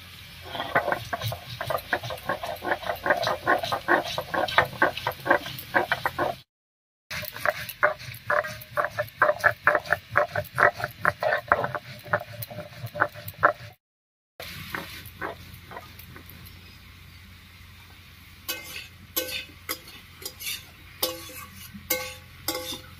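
Garlic cloves, green chillies and black mustard seeds ground together into paste on a stone, with steady rhythmic scraping and knocking strokes, close and fairly loud, pausing briefly before slower, sparser grinding.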